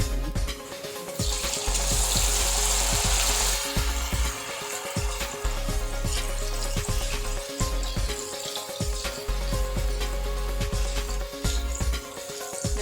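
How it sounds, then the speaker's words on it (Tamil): Cauliflower deep-frying in hot oil, a steady bubbling sizzle with faint clicks and pops, moderately quiet and continuous throughout, no talking. "காலிஃப்ளவரை நம்ம எண்ணெயில் போட்டு பொரிச்சு எடுத்துடலாம்."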